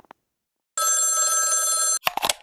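Old telephone bell ringing in a radio drama, a single sustained electric ring lasting about a second, close and clear, ending in a clatter of handling noise.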